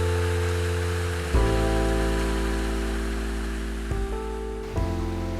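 A small waterfall on a creek gives a loud, steady rush of falling water close by, with a few brief surges and no voices.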